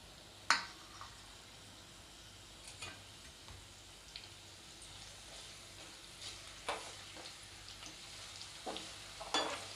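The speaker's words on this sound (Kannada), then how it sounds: "ಇದರದ್ದು ಕಲರ್ ಚೇಂಜ್ ಆಗುವವರೆಗೂ ನಾವು ಇದನ್ನು ಫ್ರೈ ಮಾಡ್ಕೊಳ್ಳೋಣ" Onion, curry leaves and fenugreek seeds fry in a pan on low heat as a faint, steady sizzle, with scattered soft clicks and taps from stirring.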